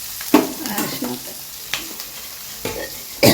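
Thick green chillies frying in a pan for bassaru, with a low sizzle broken by several close, scraping stirs at irregular intervals, fairly quiet overall.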